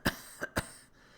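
A man gives three short, sharp coughs in quick succession, fairly close, then quiet.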